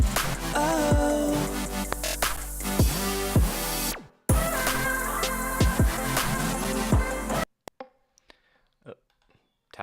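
Electronic music drop built on a huge Sylenth synth chord lead, playing loud and dense in two bursts separated by a brief cut, then breaking off into near silence with faint scattered sounds.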